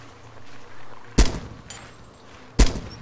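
Two loud, sharp gunshots from a rifle in Arma 2: DayZ Mod ring out about a second and a half apart, each a sudden broadband crack with a short tail, over quiet background ambience.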